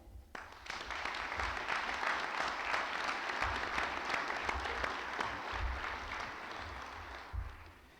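Sustained applause from a crowd at a 2019 high school graduation ceremony, a dense steady clatter of clapping that holds for the full span, with a few louder swells near the end.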